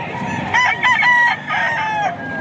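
An eight-month-old Henny rooster with a straight comb and green legs crows loudly and close by, a single drawn-out call in several wavering segments.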